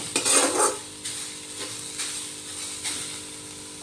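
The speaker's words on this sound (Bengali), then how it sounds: "আবারও ভালোভাবে নাড়াচাড়া করে নেব" Carrot payesh stirred in a pan after a pinch of salt goes in, soft spoon scrapes and light metallic taps repeating every second or so over a faint background hum, no talking.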